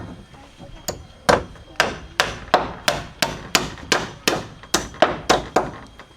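Hammer blows drive nails into boards during house building, about a dozen sharp, ringing strikes in a steady rhythm, close and loud with brief decays between hits.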